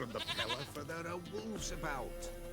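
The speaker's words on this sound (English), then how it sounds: "There's your goat." A goat in The Witcher 3: Wild Hunt gives a few wavering, nasal bleats in quick succession, close and clear, with a brief rise in pitch near the end.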